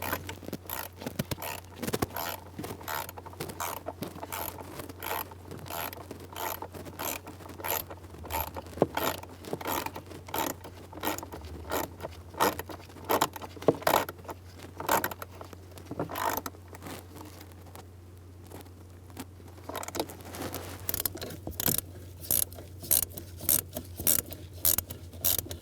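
A ratchet snugging bolts down on a 1988-1999 GMC K1500 during HVAC blend door actuator replacement: fast, repeated clicking strokes in quick bursts, close up, over a steady low hum.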